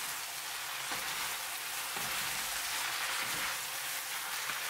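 Sweet potato noodles with chicken, sesame seeds and sesame oil sizzling in a pan, a soft steady frying hiss with a few faint rhythmic scrapes of stirring.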